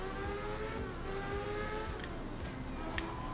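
A rally car engine revs continuously in the video game Art of Rally, a sustained droning whine that rises and falls in pitch, moderately faint and steady throughout.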